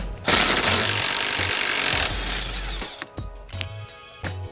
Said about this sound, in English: we'll take out another T50 Torx